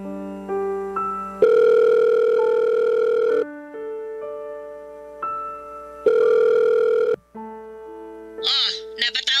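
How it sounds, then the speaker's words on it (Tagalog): A phone call's ringing and dialing tones sound in a series of loud, steady electronic beeps and tones of changing pitch, close and clear, ending with a short garbled burst like a voice on the line. "Matawagan nga si Mama."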